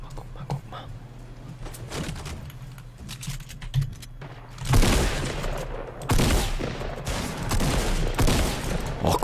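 Gunfire in Fortnite, bursts of rapid shots that grow louder and denser partway through, with quieter clicks and scattered pops beforehand.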